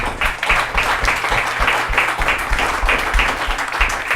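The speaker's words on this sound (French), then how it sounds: "Je voudrais vraiment qu'on applaudisse" Audience at a public debate breaks into loud, sustained applause, dense clapping close by with a steady rhythm throughout and no speech.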